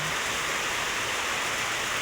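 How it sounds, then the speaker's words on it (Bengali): Heavy rain pours steadily in a village area, a dense, continuous hiss of downpour with no pauses, loud and close throughout. "কি বলবো, প্রচুর বৃষ্টি।"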